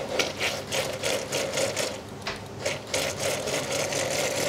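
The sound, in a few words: blender puréeing cooked lentils with water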